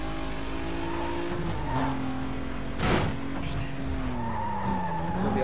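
Cars racing in the Need for Speed Most Wanted video game, with a steady engine drone, shifting engine pitch and a sharp tire skid in the middle, heard alone without talk.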